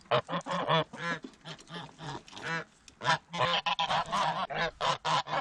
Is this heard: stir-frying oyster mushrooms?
no